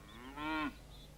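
A single bovine moo from cattle, a drawn-out harmonic low that swells and fades within about a third of a second, heard alone over a quiet background.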